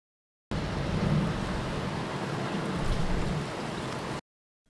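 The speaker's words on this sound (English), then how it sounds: "I also want the sound of the wind" Steady wind sound effect for an eerie song, a dense, even rushing wash like gusting air or rain in a windy park, constant and full for a few seconds, starting and stopping abruptly with no voices.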